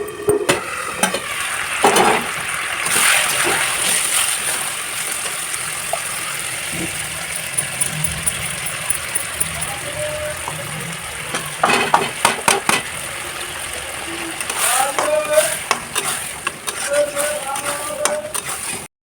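Ground spice paste goes into a pan of frying ridge gourd, cooked without onion or garlic, with a loud continuous sizzle and busy scraping, clattering strokes of a spatula stirring through the vegetables.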